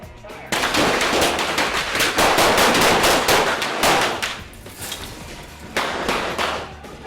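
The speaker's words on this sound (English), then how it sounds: "the Green Hornet is shooting at them with a machine gun, so some squibs go off on the table, and the window breaks behind them" Rapid machine gun fire with squib hits on a table on a film set for a Green Hornet scene, a loud dense crackle of shots in bursts that fades mid-way and then resumes.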